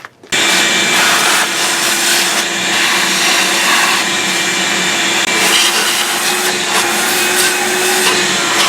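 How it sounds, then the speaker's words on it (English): A shop vac sucks debris from the intake of a Camaro/Firebird third-gen TPI engine, a loud continuous roaring whoosh that starts abruptly and runs steadily throughout, close up. "I have a shop vac hooked up, so I'm just going to vacuum all the stuff in the intake"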